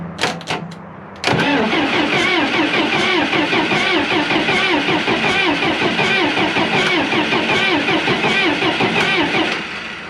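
A diesel loader with a temporary switch fix and worn glow plugs cranks briefly, then catches and runs loud and steady with a chugging idle for several seconds before fading slightly at the end.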